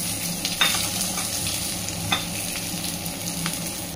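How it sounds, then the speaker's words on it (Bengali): Whole spices tempering in hot oil: bay leaf, dried red chillies, cardamom, cinnamon, cloves, black peppercorns and a little mace crackle in a steady close sizzle, with a few sharp pops and clinks from stirring. "তেজপাতা, আর এদিকে শুকনো লঙ্কা, এলাচ, দারচিনি, লবঙ্গ আর গোলমরিচ, আর অল্প জয়িত্রী আছে, এগুলো সব একবারে ফোড়ন নিয়ে নিই"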